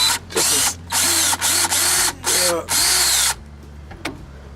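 Cordless drill driving a screw into a steel smoker build, five loud whirring bursts in quick succession with short pauses between them, then quiet; a voice is faintly heard.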